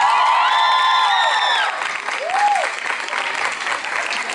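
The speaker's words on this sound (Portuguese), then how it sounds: "Palmas para ela." Applause and crowd noise fill the space, while a voice with tonal, sustained pitches sounds over it early on, then clapping continues alone.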